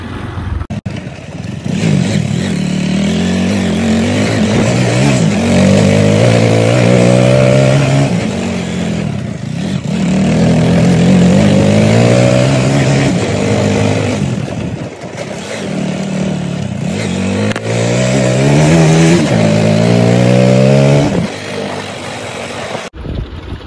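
A motorcycle engine revs hard and close in repeated rising surges, the pitch climbing and falling several times over a steady loud idle rumble, with no talking.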